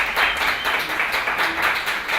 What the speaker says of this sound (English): And a round of applause for him.